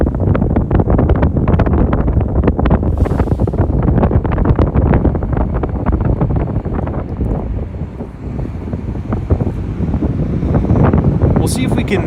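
Strong wind buffets the microphone on a New York City street on Christmas Day, a loud, continuous roaring rumble that never lets up, with a brief lull partway through.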